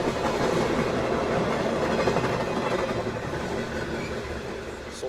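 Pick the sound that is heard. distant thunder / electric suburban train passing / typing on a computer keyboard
electric suburban train passing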